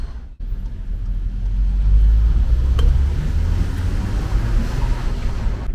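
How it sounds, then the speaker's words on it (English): Petrol engine of an Audi A3 Cabriolet driving with the soft top down, a steady low drone mixed with wind and road noise, building after a brief dip and holding loud and close. "now you can hear the sportiness of the engine"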